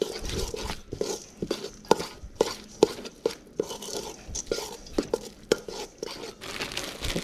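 Cooked ground beef with a cup of cheddar cheese is mixed in a bowl for enchiladas, with repeated close scraping and clacking of a utensil in an uneven rhythm.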